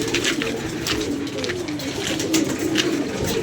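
Pigeons cooing close by, repeated soft throaty coos overlapping in a continuous rhythm over faint background noise, no talking.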